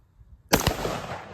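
A single sharp gunshot fired at a pumpkin rings out loud and close after a quiet moment, leaving a short echoing tail.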